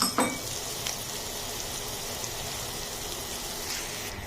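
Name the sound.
frying onions and green chilies in oil for fish curry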